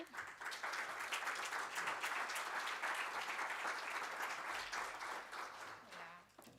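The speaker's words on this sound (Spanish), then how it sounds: "Así que les damos un fuerte aplauso a María, por favor, y a Silvia." An audience gives sustained applause to two women at a Mulleres dos Mares event, a dense even patter of many hands that fades near the end as a voice begins speaking.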